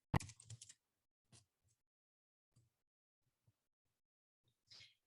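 Keys tapped on a computer keyboard while entering a zip code: a quick burst of close clicks, then a few sparse single taps spaced over several seconds, ending in a short rattling cluster.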